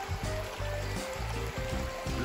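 A small freshwater creek runs beside a back-country road in Oregon, a steady close trickle and rush of water with a low, uneven rumble beneath it and no speech.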